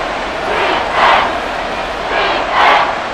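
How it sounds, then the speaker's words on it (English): Stadium crowd shouting in the video game Madden NFL 24 during a Broncos versus Texans replay, a steady roar rising into two louder swells of cheering. "Plenty of shouts from this crowd as they watch the replay."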